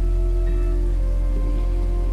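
Steady rain falling on a surface, a continuous even patter with a low hum underneath, unbroken and without voices for its full length.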